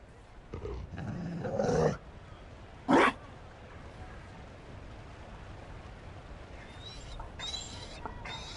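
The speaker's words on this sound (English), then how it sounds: "You found a dog? They don't breed Mabari in Olay." Mabari war dog in the Dragon Age video game lets out a short rough growl and a brief throaty bark among game sound effects, fairly close, with quiet stretches and some chime-like tones afterward.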